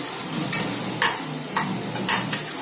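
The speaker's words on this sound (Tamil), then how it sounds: "நெய்யை போட்டு நல்லா வதக்கிக்கணும்" Ghee sizzles loudly in a pot as ingredients are sautéed for chicken biryani, with a constant bright hiss and about five short stirring scrapes spaced roughly half a second apart.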